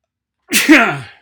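A single sharp sneeze bursts out close to the microphone after a moment of silence, then trails off quickly.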